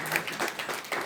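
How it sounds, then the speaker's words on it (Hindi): A church congregation claps in praise in steady rhythmic beats, a moderate group of hands heard at a middling distance for about a second. "अभी ताली बजा के प्रभु की स्तुति करें।"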